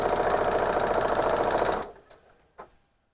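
A sewing machine stitching 3D quilt panels whirs steadily at a fast, even pace for nearly two seconds, then stops, followed by a couple of faint mechanical clicks.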